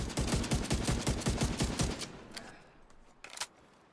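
Rapid bursts of video game gunfire crackle densely for about two seconds, then drop away to a quieter stretch broken by a couple of sharp, isolated shots.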